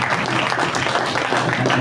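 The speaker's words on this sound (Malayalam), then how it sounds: "ഞങ്ങളൊന്ന് കൈയടിച്ച് പ്രോത്സാഹിപ്പിക്കട്ടെ സാറിനെ." An audience claps in a dense, steady burst of applause to encourage a guest named Thomas, loud and close throughout.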